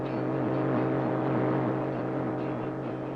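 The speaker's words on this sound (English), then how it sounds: "It is the sound of jamming." A dense, steady roaring radio jamming drone from 1960 communist East Germany, aimed at Radio Free Europe, with warbling, wavering tones running through it, loud and unbroken throughout.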